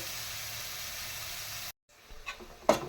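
Ingredients for kaara kuzhambu sauté in a pan, a soft steady sizzle hiss that cuts off abruptly, followed by faint scattered clatters and one brief sharper knock.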